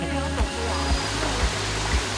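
A mountain waterfall at Xiluan Mountain pours in a steady, dense broadband rush, close and continuous, with a few soft low thumps recurring about every half second.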